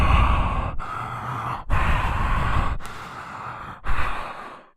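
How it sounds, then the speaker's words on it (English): A movie character's heavy mouth breathing repeats in slow, raspy inhale and exhale cycles, close and breathy, with short gaps of silence between each breath and no talking. "it's his signature breathing, his mouth breathing"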